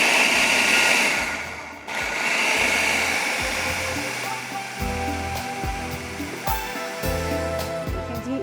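A Super Asia electric mixer whirs loudly and steadily as it blends cake batter close by, its motor pitch wavering as the load changes, while a voice seems to talk faintly underneath.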